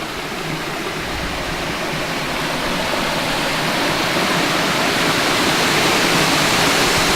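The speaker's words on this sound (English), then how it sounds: "See these waterfalls a little bit closer." Waterfalls along a rocky bluff in Ghost Dance Canyon at Dixon Springs State Park roar steadily and close, a dense unbroken rush that swells slightly louder over several seconds.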